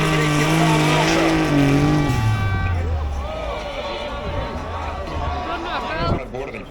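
Twin-turbo 4WD race car at a hill climb in Latvia, its engine note loud then dropping in pitch as it pulls away, with tire noise and a commentator talking over it.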